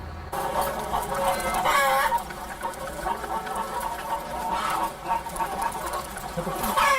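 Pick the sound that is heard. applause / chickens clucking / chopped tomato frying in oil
chickens clucking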